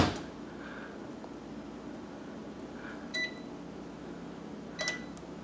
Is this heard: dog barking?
no